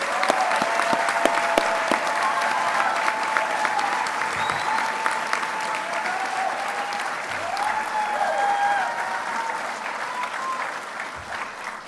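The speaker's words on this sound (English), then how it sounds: "Let's give another round of applause to all the recipients." Prolonged applause from the audience at a county police academy graduation ceremony, steady and full, with faint tonal sounds drifting beneath the clapping.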